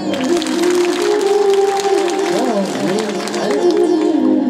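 Crowd applause at a Shiv Mahapuran religious discourse in Pawnar, a steady wash of many hands clapping at full volume throughout, with a voice carrying over it in the middle.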